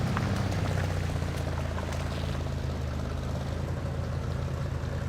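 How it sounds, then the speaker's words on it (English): A Chevy Blazer engine idles in low range in the off-road driving game Spintires: Mudrunner, a steady loud low rumble with a throbbing drone running throughout and no talk. "I do love the engine noise of the Chevy Blazer, even when it's in a low range like this and just idling"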